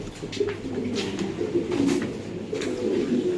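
Pigeons coo in low, throaty bursts inside a loft, several birds overlapping steadily and close by, with no voices present.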